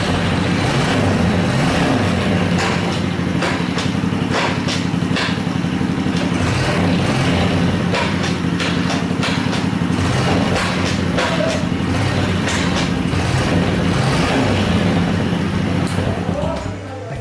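A Honda Super Cub motorcycle engine idles steadily in neutral, a continuous close buzzing chug that holds for the whole stretch while people talk over it.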